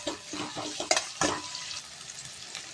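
Chopped onions sauté with salt in a pan for Erode-style Pallipalayam chicken, giving a steady close sizzle with a few sharp scraping stirs near the start, then settling into a softer, even hiss.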